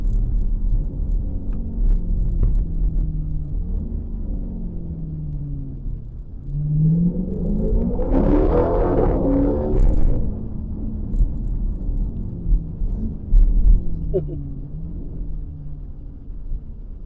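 A Jeep engine rumbles with a deep, rowdy idle, then revs up to a louder roar in the middle before settling back into a steady burbling rumble, close and alone without talk.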